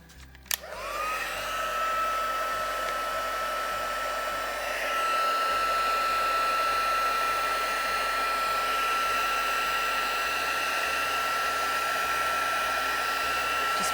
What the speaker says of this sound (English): Just warming the page and my heat gun up a little bit.